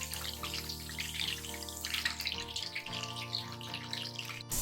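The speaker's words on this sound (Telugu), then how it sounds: "ఆయిల్ బాగా వేడవ్వాలండి, ఇలా సౌండ్ రావాలి" Chicken pieces deep frying in very hot oil, a dense, continuous hiss and bubbling sizzle up close, steady throughout with no talking.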